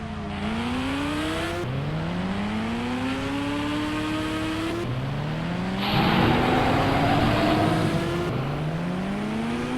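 A motorbike engine in a dinosaur video game revs repeatedly, each rev climbing in pitch before dropping and starting again, about four steady rising surges with a brief rougher burst near the middle.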